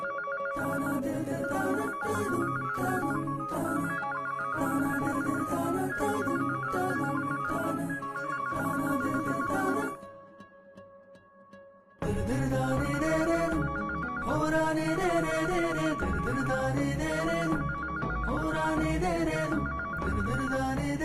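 A telephone rings with a melodic ringtone that plays steadily, pauses for about two seconds, then starts again, loud and without speech.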